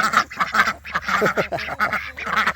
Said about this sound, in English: Come on, chickies. And duckies and duckies.